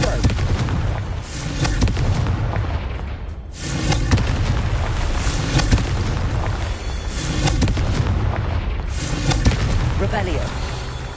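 In the video game Hogwarts Legacy, Confringo fire spells burst in repeated loud booming blasts with rumbling tails, mixed with game effects and a voice speaking.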